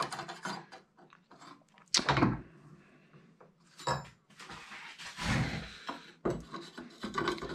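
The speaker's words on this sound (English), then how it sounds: "For the excess solder we had wiped off, we can scrape it off with a file." A file scrapes excess solder off a metal dual patch feed antenna, making several rough, close rasping strokes in irregular bursts, with short pauses between passes.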